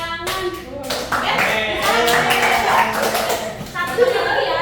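Students clapping hands during a classroom concentration game, quick claps mixed with lively chatter and chuckling voices.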